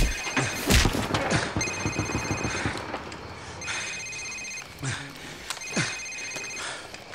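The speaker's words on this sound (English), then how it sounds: "Sir, it's his cell phone." A cell phone rings inside a safehouse in Call of Duty 4: Modern Warfare, repeating electronic rings in several bursts over gunfire-like thumps and background game noise.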